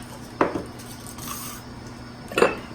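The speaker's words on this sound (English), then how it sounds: "Just want to give this a nice stir and get that erythritol nicely mixed." A spoon stirring an erythritol and milk mixture in a pot for sugar-free condensed milk, with two clear scraping clinks about two seconds apart over a steady low hum, close and moderately loud, with no talk.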